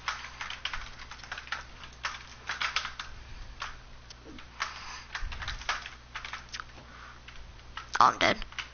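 Keyboard and mouse hooked up to a PlayStation click and tap in quick irregular bursts during gaming, fairly quiet and close, with a sharper flurry of clicks near the end.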